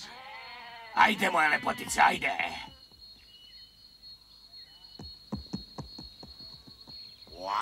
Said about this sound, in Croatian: Pustit ću svoje ovce na pašu